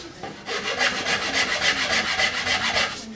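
A file rasps across the wooden limb of a hand-made Ishi-style bow, rhythmic back-and-forth strokes about four per second, close and fairly loud, with no talk.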